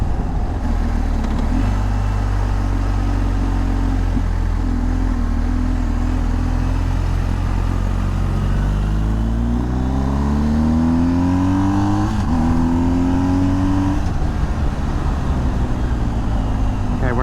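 A BMW R1250GSA motorcycle engine under way, a steady low drone that climbs in pitch through several accelerations and gear shifts, loud and close with wind noise.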